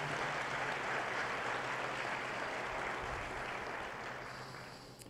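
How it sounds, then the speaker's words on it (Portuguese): A church congregation applauds during a Portuguese-language worship service, a steady, dense wash of clapping held close and loud, then slowly thinning toward the end with no voices over it. "Podemos aplaudir a Deus"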